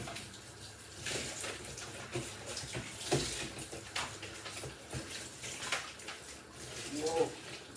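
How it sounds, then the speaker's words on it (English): Water runs steadily from a kitchen tap while a food container is rinsed and scrubbed underneath it, with splashing and clattering bursts over the flow during a Jamaican chicken-foot soup cook. "While that is going, I'm gonna wash my container."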